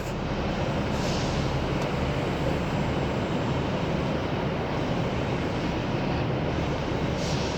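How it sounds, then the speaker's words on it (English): A TransPennine Express train rumbles steadily at Newcastle train station, a loud, continuous broadband roar of wheels and engine filling the platform without a break and with no talk over it. "we are at Newcastle train station, and instantly a TransPennine Express"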